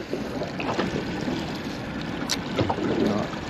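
An idling outboard boat motor runs steadily in neutral while fishing for grey mackerel at sea, its low drone mixed with wind and water noise and no speech.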